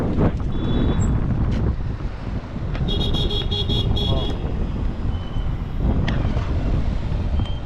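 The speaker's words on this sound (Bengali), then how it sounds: "হেভি বাতাস" Loud, roaring strong wind buffets the microphone throughout while cycling beside Diabari lake in Dhaka, with traffic and a brief horn toot in the background.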